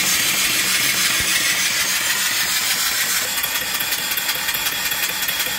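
An off-grid mill steam engine running at about 200 RPM and belted to an alternator spinning well over 1,000 RPM, giving a loud, continuous mechanical hiss and whir with no break.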